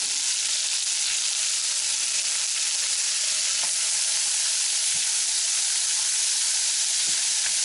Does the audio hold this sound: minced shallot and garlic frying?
yes